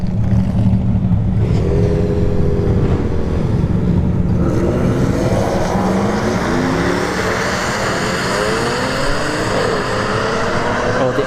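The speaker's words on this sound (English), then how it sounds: "All right, S4 here on the right lane. The full bolt-ons 4th gen Camaro on the left lane." At a test-and-tune drag strip, an Audi S4 and a full bolt-on fourth-generation Camaro launch side by side, engines rising through rapid gear-change sweeps, loud and close, then fading as the cars pull away down the track.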